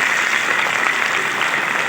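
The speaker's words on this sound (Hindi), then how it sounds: "एक बार जोर से ताली बजाएंगे इन बच्चों के लिए।" At a school Republic Day celebration, an audience claps loudly for the children, a steady, dense wash of clapping throughout.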